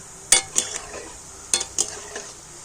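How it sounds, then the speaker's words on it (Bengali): Fritters (bora) puffed up and floating in hot oil, stirred over a low flame, with a few sharp scraping clinks of a spoon against the pan over a soft background sizzle; no talking. "আর এবার একটু হালকা জাল দিয়ে নাড়াচাড়া করে বড়াগুলোকে সুন্দর করে ভেজে নেব"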